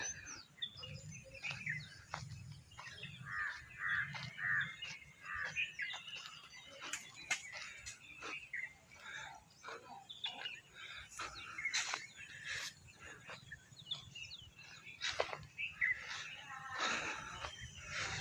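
Many birds chirp and sing in quick, overlapping calls, faint and distant over a low steady outdoor hum, with no talking, in the Konkan countryside.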